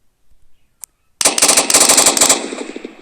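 Rapid bursts of automatic gunfire from a 3D gun mod in a video game, a sharp single shot followed by a dense, loud volley of repeated shots that ring out and decay.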